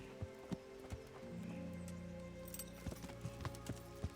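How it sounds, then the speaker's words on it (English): Horse hooves clip-clop in an uneven rhythm in the video game Kingdom Come: Deliverance, fairly quiet, with a soft low hum in the background. "I'm gonna get back on my horse."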